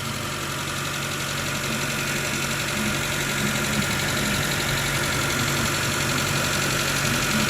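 A Proton Wira automatic's engine idles steadily in neutral, a continuous close rumble with a faint mechanical knock running through it; a voice says one brief word.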